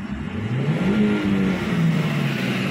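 A 2016 Toyota Avanza engine runs after a BlackCore carbon-cleaning treatment, giving a steady mid-pitched hum with a slight rise and fall in revs, close to the microphone and continuous with no talk over it.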